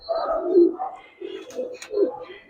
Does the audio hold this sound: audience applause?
no